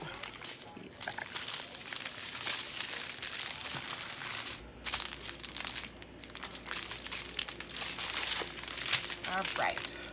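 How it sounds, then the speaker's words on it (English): Plastic bags of supplies from a haul being folded, continuous close crinkling and rustling with a voice talking over it. "Let's see if that'll help me figure out how to fold these bags."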